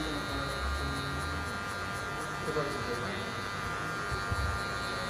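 Electric hair clipper fitted with a comb guard cutting hair for a fade, a steady close buzz throughout with faint crackles of cutting, while someone talks over it.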